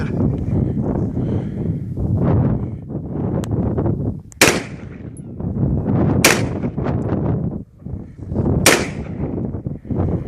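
Three loud, close AR-15 rifle shots fired outdoors at well-spaced intervals, each a sharp crack, with steady wind noise buffeting the microphone throughout.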